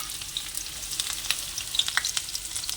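Chopped onion drops into a pan of hot oil with cumin and fries with a steady, moderately loud crackling sizzle and occasional sharp pops; no one talks.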